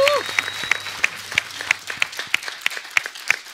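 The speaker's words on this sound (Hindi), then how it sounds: "एक बार मैं आप सबसे कहूंगा जोरदार तालियां इन लोगों के लिए।" Studio audience applause on a television comedy show, a steady patter of clapping under a host's voice, with a faint beeping tone repeating at a regular pace.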